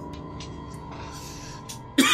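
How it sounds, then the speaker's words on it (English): A single sharp cough bursts out near the end, close and loud against a quiet background with a faint low hum and small scattered noises. "Oh, stop coughing"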